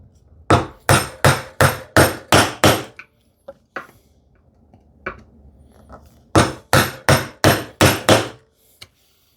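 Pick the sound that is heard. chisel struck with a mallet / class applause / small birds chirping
chisel struck with a mallet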